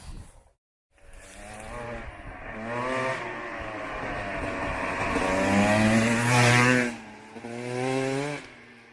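Enduro motorcycles, a Husqvarna and a Beta with a 350 Suzuki engine, rev and ride on country lanes, engines rising in pitch through repeated gear changes, loud and close, then easing off near the end.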